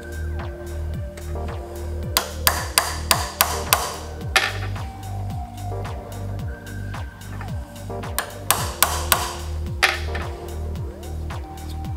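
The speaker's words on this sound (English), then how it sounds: "And we're just gonna lightly tap the assembly." Light taps on a Bridgeport milling machine spindle assembly while checking the shim: quick metallic pings in two short clusters, close and distinct over a steady mechanical hum.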